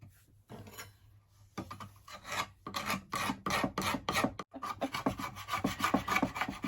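A wooden footstool has milk paint scraped off it, with a run of quick, rasping scrape strokes that repeat close up in an uneven rhythm, with a brief pause partway through.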